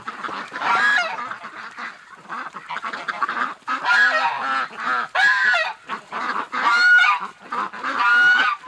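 Ducks out in warm winter rain give loud, close honking calls in repeated bursts, with short pauses between the groups.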